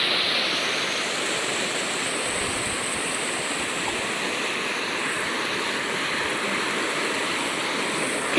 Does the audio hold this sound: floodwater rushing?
yes